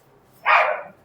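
One loud, short dog bark outdoors, close and clear against near silence.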